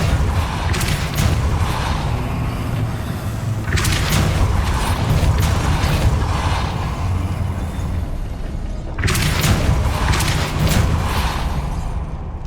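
Repeated Depulso spell casts in Hogwarts Legacy, a video game, land as three heavy whooshing booms at even intervals, each swelling and fading over a loud rumbling game ambience.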